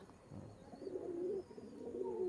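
High-flying pigeons kept for sale coo in a low, warbling run that builds and wavers, close and moderately loud with no voices.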